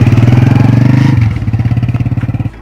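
A motorcycle engine runs loud and close with a rapid, steady thumping idle that drops slightly in pitch and intensity partway through, then keeps pulsing evenly.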